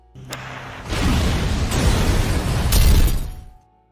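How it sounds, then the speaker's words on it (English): A gas leak ignites into a sudden burst inside a room, opening into a roaring blast that rumbles for a few seconds with crackling debris, then quickly dies away to silence. "causing an explosion in the room"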